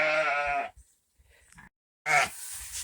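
Sheep bleat in a barn at feeding time, a loud, harmonic bleat opening the clip, quieter shuffling and knocks in the middle, then a second strong bleat near the end.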